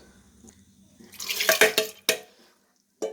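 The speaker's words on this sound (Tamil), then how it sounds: "துவரம்பருப்பு நல்லா கழுவி வச்சு" Water sloshes and splashes in short bursts as toor dal lentils are rinsed in a bowl, with a few drips and quiet pauses between.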